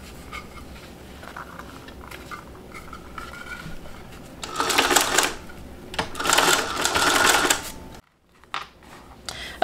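A sewing machine top stitches a fabric bag, running in two sustained bursts of rapid mechanical whirring, with quieter handling clicks before and a short pause between.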